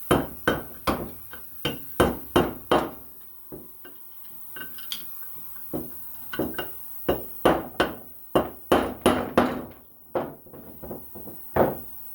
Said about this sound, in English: I'm still over here hitting them with the hammer and screwdriver.